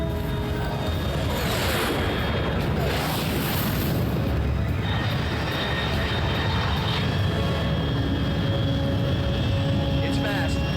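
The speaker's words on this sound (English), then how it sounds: "Control, unidentified aircraft detected." A fast unidentified aircraft in Metal Gear Solid Delta: Snake Eater roars past overhead as a loud, steady wall of jet noise that swells through the first seconds, with a voice speaking underneath.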